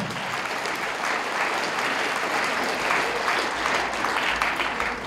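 Sustained audience applause, a dense, even roar of many hands clapping throughout.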